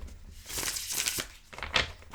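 Oversized standard-size tarot cards from a Women in Science deck being shuffled by hand, giving close, papery riffling bursts in two or three quick runs, fairly loud and with no talking over them.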